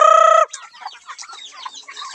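Palawan native chickens in a backyard coop: a rooster's crow cuts off abruptly, followed by a busy mix of clucking and chatter from the flock.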